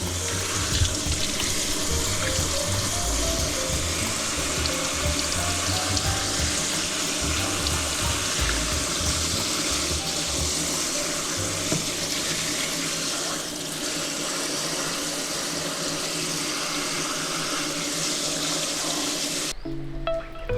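Water sprays steadily from a shower hose nozzle onto a rattan chair in a continuous hiss, running without pause before cutting off abruptly at the end.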